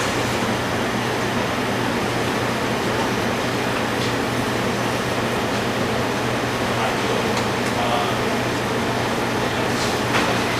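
Pot of water at a rolling boil for gnocchi, a steady dense broadband hiss and bubbling rumble that fills the whole stretch, constant and fairly loud.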